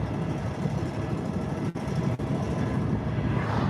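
A pickup truck's engine runs rough while burning oil, a low, uneven rumbling drone that carries steadily throughout, with two brief dips where the sound cuts out.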